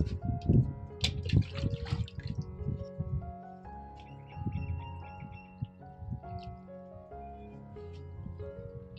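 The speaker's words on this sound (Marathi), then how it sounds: "झाडांना पाणी घातलं फौजी साहेबांनी." Watering plants on a home terrace, with soft splashing and trickling water and scattered drips, fairly faint, over a tonal musical background.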